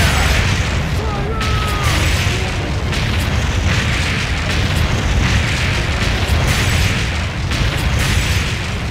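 Cannons fire at a pirate ship in the arcade shooter Deadstorm Pirates, a continuous loud roar of booming blasts and crashing impacts, dense and close throughout.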